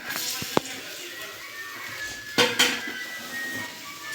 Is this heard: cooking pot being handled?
yes